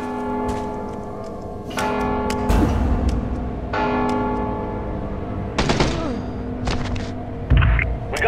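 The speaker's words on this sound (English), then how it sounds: "Don't you hear the bell?" A bell tolls in the stealth game Mark of the Ninja, several loud ringing strikes with long sustained tones spaced a couple of seconds apart, mixed with a few dull thumps and game sounds.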